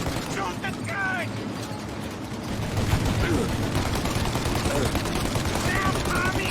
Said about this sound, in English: Shoot up your gun when there's a break in the fire!